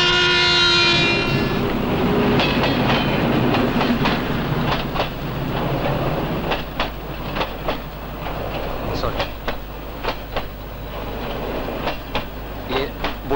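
A passenger train running from Kamalapur station toward Chittagong sounds a loud horn blast at the start, then rumbles on steadily with a rhythmic clickety-clack of wheels close by.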